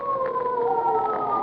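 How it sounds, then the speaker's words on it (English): A steady wailing police siren tone rings out continuously, mid-distance and fairly loud, with no voices. "Hey, police sirens."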